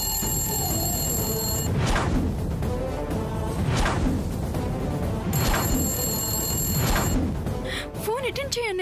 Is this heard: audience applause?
no